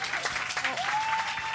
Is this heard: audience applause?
yes